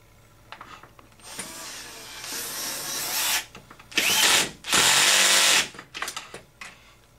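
A power tool tightens a bolt with a lock nut on an HPI Baja SS model, giving several whirring bursts of rising intensity, with the loudest two bursts near the end and a few short mechanical clicks between them, close and without talk.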